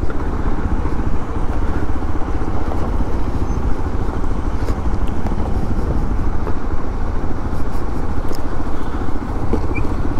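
A motorcycle engine drones steadily and loudly on a mountain road in Mustang, Nepal, with a constant rumble and rattle close to the rider and no speech.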